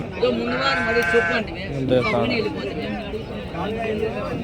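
Several goats bleat loudly and repeatedly, close by, with people talking in the background of a crowded outdoor sheep and goat market in Angallu.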